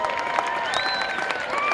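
A crowd at a motorsports park applauds in a sustained wash of clapping and cheering, with a few whistles rising above it.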